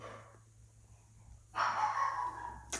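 A dog gives a short, close burst of breathy barking and snorting after a quiet stretch, with a faint low hum underneath.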